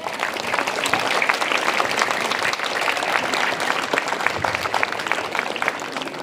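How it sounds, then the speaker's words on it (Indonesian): Steady crowd applause rings out at an outdoor school ceremony marking National Education Day, a dense, even clapping that holds for about six seconds with no speech over it. "Tepuk tangan untuk kita semua"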